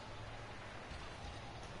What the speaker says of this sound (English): the rain continues to pound